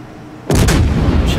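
Warship guns firing shells in World of Warships: a sudden heavy boom from the main battery at sea, loud and close, with a sustained rumbling roll and a second blast layered in.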